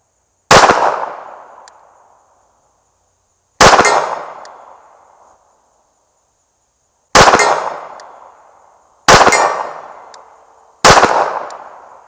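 A Beretta Inox Tomcat pistol fires five sharp, loud shots at uneven spacing, each with a ringing decay, outdoors with no talking.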